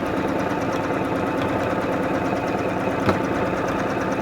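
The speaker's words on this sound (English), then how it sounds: "Free motion quilting on this machine feels so good." A Juki DX/F series sewing machine free-motion quilting, its needle mechanism running in a fast, steady mechanical chatter at close range with an even hum and no speech.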